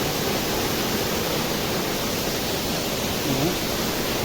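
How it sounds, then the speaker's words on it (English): Rampa waterfall in dense forest in Andhra Pradesh, a steady, loud broadband roar of falling water that holds an even level throughout with no pauses. "That is the main waterfall."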